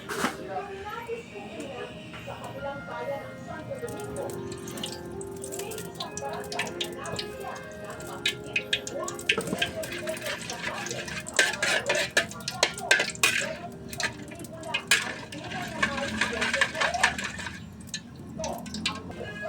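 Onions and garlic sautéing in a pan for a coconut-milk dish of heart of palm, with faint sizzling, dish clatter and utensil scrapes running steadily under talk.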